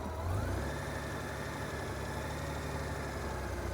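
A motorcycle engine runs at a steady mid-pitched idle, rising slightly as the throttle is brought up, then holding a continuous close drone with no talk.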